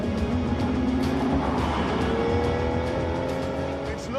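Cars drive past at speed on a road in Romania, engines droning and rising in pitch with a brief tire squeal near the end, a continuous loud wash of motor noise.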